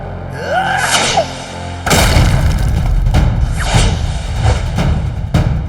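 Cartoonish whooshes followed by several loud, booming explosions from a cartoon yo-yo, each with a heavy low rumble, spaced a second or so apart.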